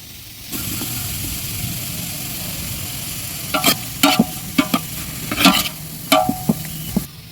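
Chopped garlic sizzles in hot oil while being stir-fried for a village-style egg Maggi masala. A steady frying hiss runs throughout, and from midway a series of sharp spatula scrapes and clatters lands against the pan.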